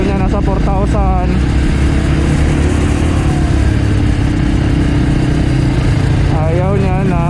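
A Honda AX1 250cc supermoto engine held around 4,000 RPM, loud and close, its revs swelling at the start and again near the end over constant rushing wind noise.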